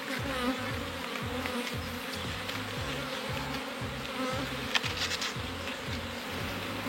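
Honeybees hum steadily around an open beehive while nurse bees are gathered to start a new swarm, a dense, continuous close-up drone with no voices.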